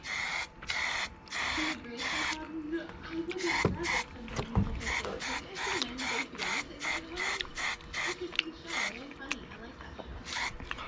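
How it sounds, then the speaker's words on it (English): A spray paint can lets out a quick run of short, sharp hissing bursts over a toolbox being prepped for a car, evenly spaced and fairly close, with a low voice murmuring underneath. "you can spray paint shit"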